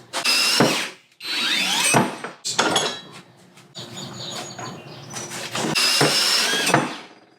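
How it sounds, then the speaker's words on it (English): A portable band saw cuts metal tubing for a Jeep Wrangler TJ roof rack in several loud, close bursts of grinding whine separated by short pauses and quieter handling noises. "So this one's where I kind of struggle with the porta band."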